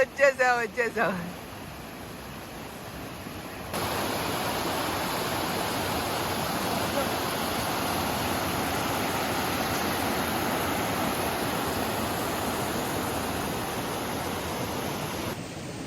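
A brief burst of voices, then a steady, unbroken roar of falling water from a waterfall at a trekking spot in Lagodekhi, Georgia, filling the rest of the clip evenly.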